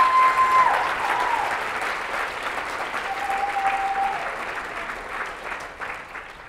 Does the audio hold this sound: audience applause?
yes